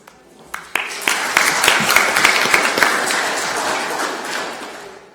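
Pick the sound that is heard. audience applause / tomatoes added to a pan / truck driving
audience applause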